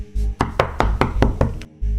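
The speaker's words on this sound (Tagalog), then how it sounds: "kaya naman pinagkakalabog niya na ang pinto" Loud, rapid banging on a door, about six heavy knocks in quick succession, close and alone, with deep thuds at the start and end.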